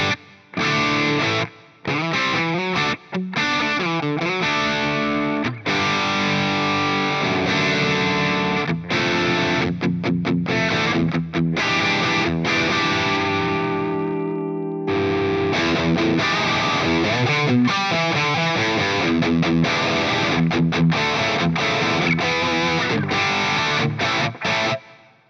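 Distorted electric guitar through an Atomic Amplifire on its Friedman amp model with a touch of plate reverb, playing loud chugging chords and riffs with short pauses, alone without talk.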